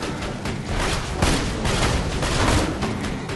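Pistol fire in Borderlands 2 booms in a quick run of close, heavy shots that blur together, loud and continuous over a few seconds with no talk.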